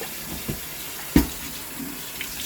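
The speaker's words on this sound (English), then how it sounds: "When I wash my rice, I like when the water is clear." Rice is rinsed in a sink under a running tap during home cooking, a soft steady water wash with one brief louder splash near the middle, quiet and close with no talking.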